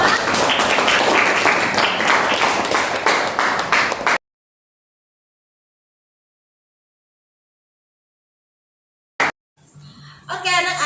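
Schoolchildren clap for their classmates in an Indonesian classroom lesson on air pollution, a burst of brisk group clapping that stops abruptly, followed by silence, a short thump and then a faint voice speaking.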